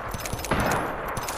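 Rapid bursts of gunfire in a shooter video game battle royale match, a dense crackling volley with sharp individual shots in quick succession, loud and close throughout.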